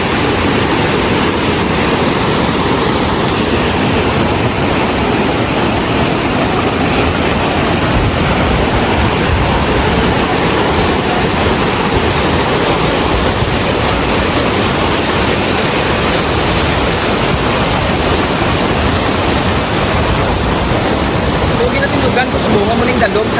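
Rushing high floodwater sounds as a loud, steady roar of churning water without a break, with some wind noise over the microphone.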